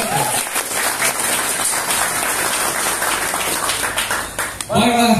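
Lively applause from an audience gathered at a Reog Ponorogo cultural dialogue at Joglo Banteng, with continuous loud clapping, then a voice speaking at the end.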